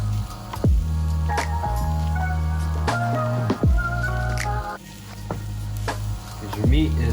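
Meat with peppers and onions cooking in a pan over low heat, a continuous close sizzle with intermittent scraping clicks from stirring.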